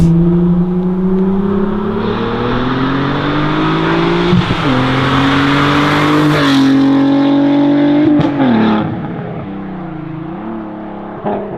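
A Volkswagen Golf 5 R32 engine revs up loudly and climbs in pitch, holds a high roar, then drops back with a throaty burble, close by.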